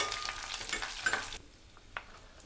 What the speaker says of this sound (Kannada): ಅದಕ್ಕೆ ಇದೊಂದು ಸ್ವಲ್ಪ ಒಗ್ಗರಣೆ ಹಾಕೋತಾ ಇದ್ದೀನಿ.